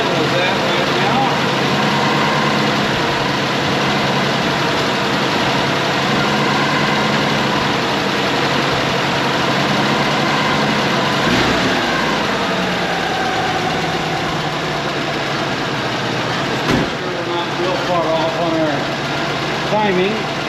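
A 1986 Mazda B2000 with a leaking head gasket idles steadily and close by, a continuous engine drone running the whole stretch with a few brief mechanical shifts and clicks near the end.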